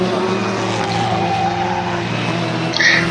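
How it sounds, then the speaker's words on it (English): A historic Formula Ford race car corners on the limit through a bend at Brands Hatch, its engine note holding steady and close with a brief tyre squeal near the end, no voices over it. "See the car right on the limit through Surtees"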